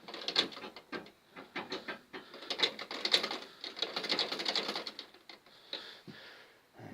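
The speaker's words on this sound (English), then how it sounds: "an old sewing machine" An old sewing machine clatters in uneven bursts of rapid mechanical ticking, starting and stopping, close up with short pauses between runs.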